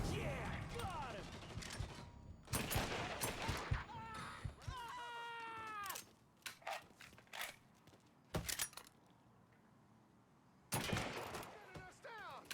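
Loud bursts of gunfire in the game Mafia 3: Definitive Edition, sharp shots and rattling volleys clustered in several bursts separated by quieter gaps, with mechanical clatter between them.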